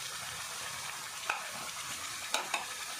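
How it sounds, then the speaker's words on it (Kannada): Paneer masala spices fry over a slow flame, giving off a steady soft sizzle with a few sharp clicks of stirring near the end. "ಮಸಾಲೆನ ಫ್ರೈ ಮಾಡ್ತದೆ ತೊಂದ ಸ್ಲೋ ಫ್ಲೇಮ್ ದೀಲೆ"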